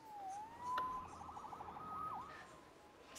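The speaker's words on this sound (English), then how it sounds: "Saved by the siren." A police-style siren in the Spider-Man PS5 video game wails, then switches to a rapid warbling yelp before sliding back to a steady tone, clear and moderately distant with no talk.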